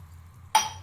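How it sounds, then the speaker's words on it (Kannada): Water poured from about one and a half glasses into a small pressure cooker while making ragi mudde: a quiet room, then a sudden close splash about halfway through that trails off quickly. "ಅದು ನೀರು ಹಾಕ್ತಾಯಿದ್ದೀನಿ."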